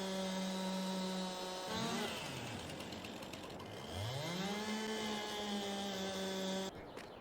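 Chainsaw in Farming Simulator 22 cutting through wood, a loud steady engine drone with pitch dips and rises as the blade bites and revs, ending abruptly.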